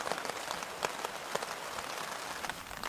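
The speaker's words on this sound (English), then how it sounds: "Seems to be staying on the horizon, but the rain has started," Rain beginning to fall in the Quetico wilderness during a distant lightning storm, a steady soft patter of drops on surfaces with occasional sharper taps, fairly faint, and no voices.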